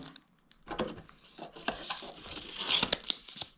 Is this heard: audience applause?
no